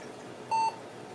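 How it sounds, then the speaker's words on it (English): A single short electronic beep from an old vintage Pentium III PC at power-on, a clean steady tone against faint background hiss. "It's doing one beep and the screen has come on."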